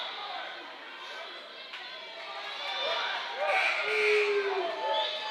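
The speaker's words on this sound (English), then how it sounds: "The Silo crowd is livid on the near side" A home crowd at a Silo girls' high school basketball game shouts and jeers in protest from the stands, a dense wash of raised voices that swells louder toward the end.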